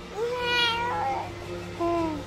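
A voice imitates a cat, drawing out a high meow, then a shorter second meow after a brief pause.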